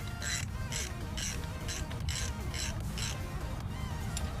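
A ratchet tightens the oil drain bolt on a 2001 Suzuki DRZ motorcycle, giving a steady series of about eight close, crisp clicking bursts at a regular rhythm.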